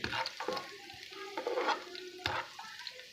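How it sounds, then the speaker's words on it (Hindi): Steady frying sizzle of onions turning golden in a pan for masoor dal tadka, with intermittent stirring scrapes and clinks, close and moderately loud, no voices. "प्याज हमारा अच्छे तरीके से गोल्डन फ्राई हो चुका है"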